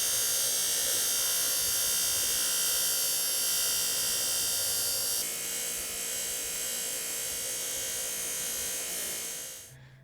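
A motorcycle transmission shaft from a 2005 Yamaha YZ125 is polished with a rotary tool, giving a steady high-pitched whine that drops slightly midway and then cuts off near the end, with no talking.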